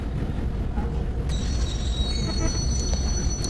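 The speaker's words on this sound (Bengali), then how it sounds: "ট্রেনটা অনেক জোরে চলতেছে।" A fast-running train, a loud steady rumble with a high, sustained wheel squeal that begins partway through and continues to the end, heard from close by.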